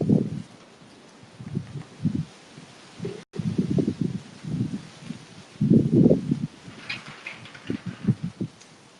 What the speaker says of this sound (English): I hope the soap is done before the wind blows me away or blows my things away